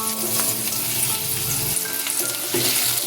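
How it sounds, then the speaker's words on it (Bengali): Small diced potatoes fry in a pan for a Bengali prawn dish, giving a loud, dense, steady sizzle and crackle close by, with stirring noises shifting the sound partway through and no voices. "আলুটা লাল করে ভেজে নিচ্ছি।"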